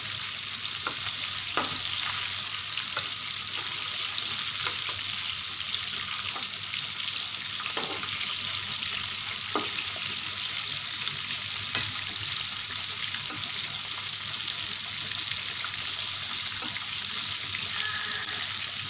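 Pieces of chicken broast fry in oil in a pan on a medium flame, giving a steady, bright sizzle that runs without a break. Soft knocks and scrapes of stirring or handling turn up now and then, and no one speaks.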